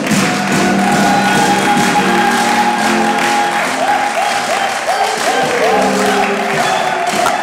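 A church congregation at an official opening in Stockholm claps loudly and continuously, a dense wash of applause with scattered shouts mixed in.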